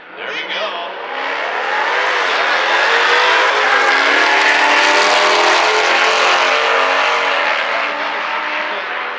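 An LS6-powered car launches hard down a drag strip, racing a Hellcat, its engine roaring loudly as it accelerates and then holding a sustained, rising howl while passing close by.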